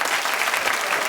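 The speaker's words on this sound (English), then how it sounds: "Clap if that's you, too." A studio audience at a daytime talk show claps in dense, even applause that fills the whole short stretch at a steady loud level, with no speech over it.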